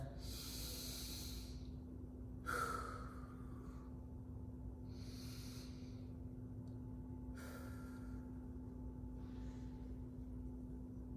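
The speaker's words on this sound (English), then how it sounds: "Big deep breath." Slow, deep breaths during a yoga hip stretch, with several long airy inhales and exhales spaced a few seconds apart over a steady low hum, plus one sharper snort-like intake partway through.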